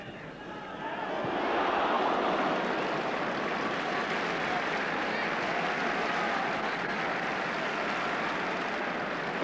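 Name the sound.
football stadium crowd applauding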